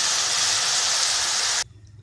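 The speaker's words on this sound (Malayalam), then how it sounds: "ഇതിലോട്ട് നമുക്ക് പാൽ ചേർത്ത് കൊടുക്കാം." Cold milk poured into a hot pan of browned fried vermicelli for semiya payasam gives a loud, steady sizzling hiss for about a second and a half, then cuts off abruptly to near quiet.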